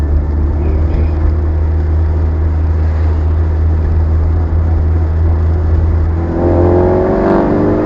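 A 1971 Austin 1300GT engine runs steadily with a low, throaty rumble, swelling slightly toward the end as it revs while driving.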